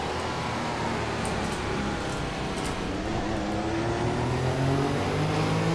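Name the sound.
F1 2014 race car engine from a video game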